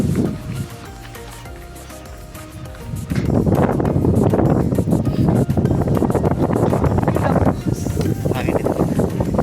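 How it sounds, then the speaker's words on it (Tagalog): Strong wind on Mt. Anahaw in Valencia buffets the microphone with a loud, steady roar after the first few seconds, drowning out the quieter, rustling start. "Hangin dito."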